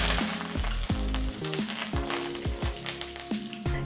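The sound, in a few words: curry leaves frying in oil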